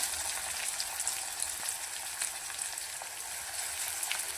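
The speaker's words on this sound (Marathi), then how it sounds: "आता कांदा परतून घेऊया" Chopped onion sautés in hot oil with popped mustard seeds for a spicy dry cauliflower dish, giving a steady, close, bright sizzle with small crackles throughout and no talking.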